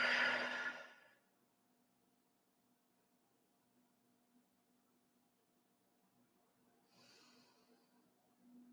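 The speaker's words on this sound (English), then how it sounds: "Breathe in. Breathe out." Slow deep breathing close to the ear, a long breathy exhale at the start, a quiet pause, then a softer drawn-in breath several seconds later, over a faint low hum.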